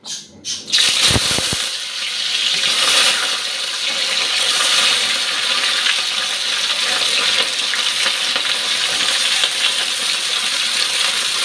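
Vegetables hit a hot pan with a sudden clatter, followed by a loud, steady frying sizzle that continues evenly for several seconds.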